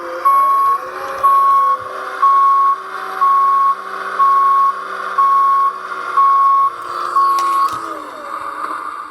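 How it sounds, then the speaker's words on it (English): A 2017 Hess toy dump truck sounds its electronic backup alarm, a steady repeating beep about once a second over a faint motor whir, close and clear. "that was a backup noise"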